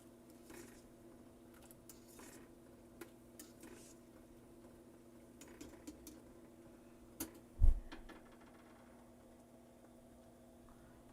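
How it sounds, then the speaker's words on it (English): Pumpkin ricotta gnocchi being stirred in a pot: soft, sparse scrapes and light clinks over a low steady hum, with one sharper knock near the end, quiet and close with no talking. "So I'm going to give my gnocchi a nice stir here."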